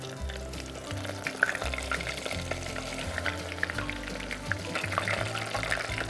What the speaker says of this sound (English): when you drop it into the fryer, just make sure you drop it away from you